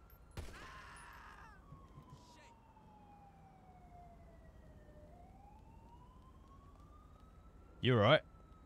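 Police sirens wail in a video game: a faint, distant siren sweeps slowly down and back up in pitch across several seconds, with a brief sharp burst near the end.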